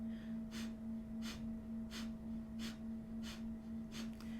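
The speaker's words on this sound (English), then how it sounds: "Inhaling halfway through and beginning breath of fire again" Breath of fire, a rapid breathing exercise: sharp forceful nasal exhales about every two-thirds of a second, even and close, over a steady low drone.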